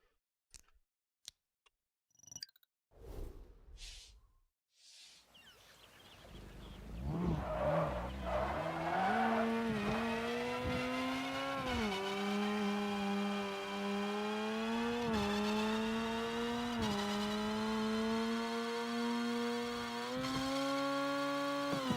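A custom-built racing car in the video game Screw Drivers, its front engine left unmounted, revs up into a steady high engine whine. The pitch climbs in stages as it shifts gears, after a few clicks and short bursts at the start.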